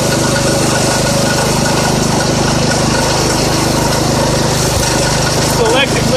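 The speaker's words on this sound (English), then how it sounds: "It's the electric lift. And down here you can see it The mower deck going up and down." A 1970 IH Cub Cadet 127 garden tractor runs loud and close with its PTO engaged, a steady buzzing engine drone as the electric lift raises the mower deck, with a faint whine near the end.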